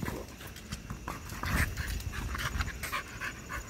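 A red-nosed Staffordshire bull terrier pants close by in quick, rhythmic bursts, mixed with soft shuffling and a few light knocks, no speech.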